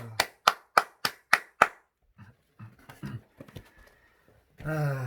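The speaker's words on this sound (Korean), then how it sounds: "주님께 영광의 박수" A church congregation claps in praise during an early-morning worship service, with six sharp, evenly spaced claps up front followed by scattered softer sounds and a brief voice at the end.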